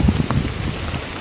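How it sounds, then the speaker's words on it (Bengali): Cyclone-driven rain falling steadily with wind, a dense, continuous wash of drops with a few heavier patters early on, close and fairly loud for about a second, without speech. "রাতে হয়েছে আজকে দিনেও বাতাস আছে, এখনো বৃষ্টি হচ্ছে"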